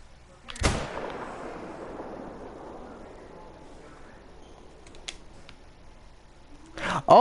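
A single loud rifle shot in the hunting game Call of the Wild, Yukon Valley, aimed at a grizzly, rings out with a long fading echo, followed by quiet ambience and a few faint clicks.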